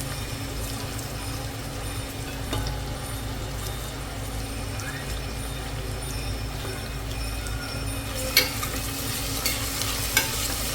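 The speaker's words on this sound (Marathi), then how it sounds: "कांदा छान फ्राय करून घेऊयात" Long-sliced onions frying in a pan for yakhni pulao give off a steady, close, dense sizzle with soft stirring throughout, and a few sharper utensil clinks near the end.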